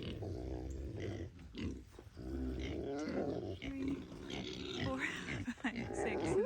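Low, rumbling snorts and grunting breaths from sleeping pigs snoring on a farm, close by and fairly continuous, with a voice talking quietly over them.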